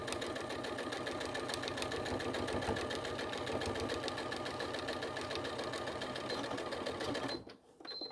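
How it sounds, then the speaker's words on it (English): Rapid, even stitching from a sewing machine working on patchwork, loud and continuous for about seven seconds before it stops abruptly, leaving a short quiet tail. "I'm going to sew across here"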